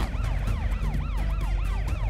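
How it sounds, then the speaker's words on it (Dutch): A cartoon emergency vehicle's siren wails in fast, repeating up-and-down sweeps, loud and close over a low vehicle rumble, with no talking. "Misschien moet je je sirenes uitdoen."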